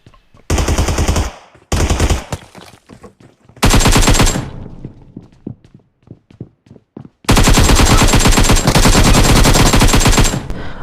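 Automatic gunfire in the battle-royale video game PUBG Mobile, heard as loud sustained bursts of rapid shots, a couple of short bursts, then a longer one, then scattered single cracks before a long continuous burst to the end.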